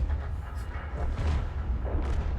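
An M53/M55 self-propelled artillery gun fires a round in a tank video game, giving a deep low boom over steady engine rumble, with a second dull thud a moment later.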